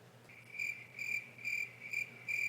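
A crickets chirping sound effect repeats in short, evenly spaced pulses, clear and alone against a quiet background.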